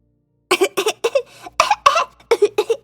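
A storyteller imitates a young girl coughing as if water went down the wrong way: about nine short, throaty voiced coughs in quick clusters, close and clear, with no other sound.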